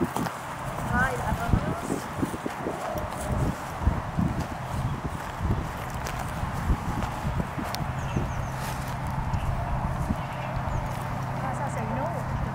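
Horses walk on a path by a park, their hooves clip-clopping in a steady irregular patter. People talk over the hoofbeats, with outdoor noise throughout.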